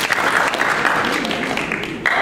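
Audience applause at a pageant event, steady crowd clapping and cheering at a constant loud level for a couple of seconds.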